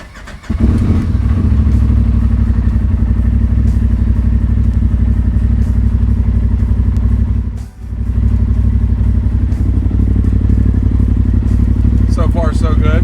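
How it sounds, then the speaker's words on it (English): Cold start of a 2019 Polaris RZR XP Turbo side-by-side: after a brief crank the engine catches and settles into a loud, steady idle close by, with one short dip midway and some rattling clatter near the end. "Here's a cold start of my new to me 2019 RZR"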